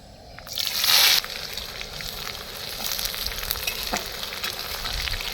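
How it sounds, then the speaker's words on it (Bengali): Chopped onion lands in hot oil in a pan outdoors by a pond, bursting into a loud hiss that settles into a steady, crackling sizzle with occasional stirring. "এবার দিয়ে দেবো কুচানো পেঁয়াজ"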